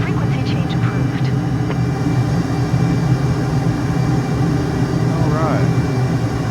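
An F/A-18 jet's engine roars steadily in Microsoft Flight Simulator 2024 over Egypt, a loud constant drone with faint radio chirps on top.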